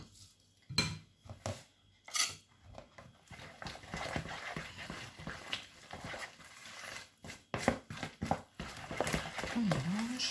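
Olives stirred into a pepper-olive cake batter in a bowl, giving soft, irregular scraping and clinking strokes of a utensil against the bowl, close and fairly quiet, with occasional louder knocks.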